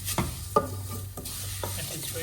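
Vermicelli sautés in a pan as it browns, a soft background sizzle broken by several rhythmic scraping strokes of a utensil stirring.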